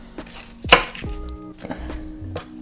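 Knife chopping vegetables on a cutting board for lobster bisque stock, a few separate close thuds and clunks with some pot or dish clatter, no voices.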